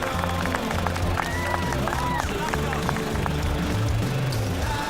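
Dense racecourse crowd murmur at Derby Day horse races in Melbourne, a steady loud wash of many voices with scattered calls, under continuous talk.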